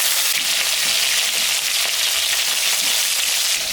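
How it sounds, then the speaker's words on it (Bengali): Magur fish frying in hot mustard oil in a kadai, giving a loud, steady, dense sizzle close by with no voices. "তেল গরম হয়ে গেছে, মাছটা এখন আমি ভাজবো।"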